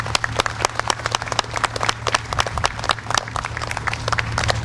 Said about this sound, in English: Please give the band another round of applause.